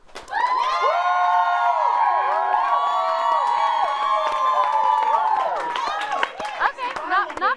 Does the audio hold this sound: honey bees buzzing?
no